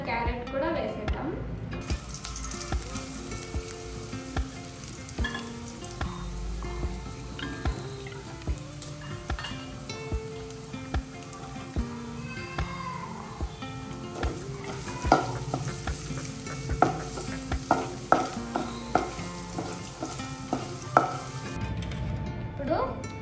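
Green chillies and grated carrot frying and being stirred in a pan, with steady sizzling and repeated scraping stirs throughout, close and moderately loud, alone without talk.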